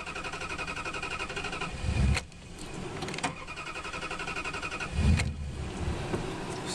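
A wood-gasifier-powered Dodge Dakota engine runs rich, giving a steady, close mechanical drone with two brief low thumps along the way and no talking.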